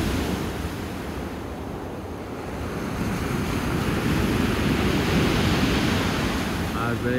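Black Sea surf on a beach in Sochi during a stormy, cloudy December day. Waves roll and crash loudly and continuously, mixed with heavy wind buffeting the microphone and no voices.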